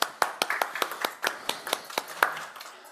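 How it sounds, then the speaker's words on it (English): A small conference audience at a talk on API governance claps for a few seconds: a sparse, uneven run of about a dozen distinct, crisp hand claps from only a handful of people, moderately quiet in the room. "give an applause to them."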